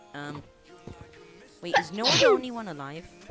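One sharp sneeze comes midway through, loud and close, between stretches of casual talk from people playing a survival game.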